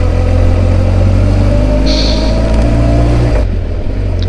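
A motorcycle engine idles steadily at close range with a deep, continuous exhaust rumble and a brief higher whine partway through.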